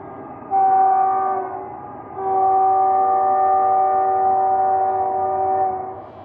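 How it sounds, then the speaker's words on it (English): A diesel locomotive horn with a harsh, sour, dissonant chord, likely from a damaged or blocked-off horn, blows two long sustained blasts, the second held for about four seconds, loud and close with no talk. "Yes, that one was a definitely horrible sounding horn"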